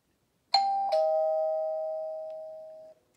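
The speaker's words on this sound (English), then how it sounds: "You hear a ring." A doorbell rings with two quick ding-dong strikes, then the second tone rings on clearly and fades out slowly over about two seconds, alone in a quiet room.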